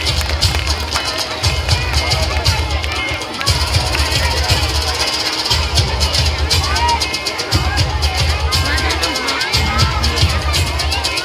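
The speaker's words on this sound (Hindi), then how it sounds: "तालियां, जोरदार तालियां हो जाए" Loud, steady applause from a crowd of students and parents at a primary school prize-giving in Anjangaon Surji, sustained throughout amid general hubbub and a rhythmic low thumping.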